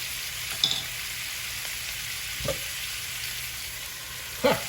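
Steak for smothered steak cooks in a lidded pan on low heat, giving a steady soft sizzle with a few brief clunks of pan or lid. No one speaks.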